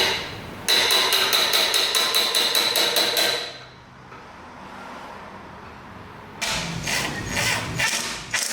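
Rapid metal hammer taps knocking dents out of a KTM Duke motorcycle fuel tank, a fast even burst of strikes, a quieter pause, then another run of ringing blows, close and loud.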